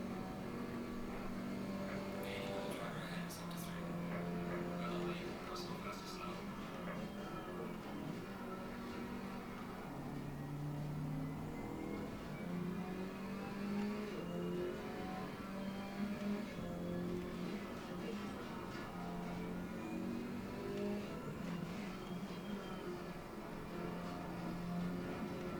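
Race car engine in Assetto Corsa Competizione on PS5, droning steadily at mid pitch throughout with shifting revs and gear changes, continuous and fairly loud with no talk.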